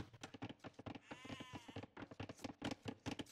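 Sheep in a 4v4 strategy video game match on the Oasis map give one drawn-out, wavering bleat in the middle, set among busy, rapid clicking game sounds.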